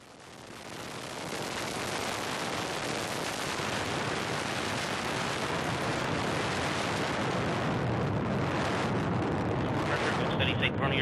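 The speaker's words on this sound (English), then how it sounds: "liftoff of the Delta II rocket with NOAA N-Prime" A Delta II rocket carrying the NOAA N-Prime satellite lifts off, its roar swelling from a quiet start into a broad, continuous rumble that holds loud through the end.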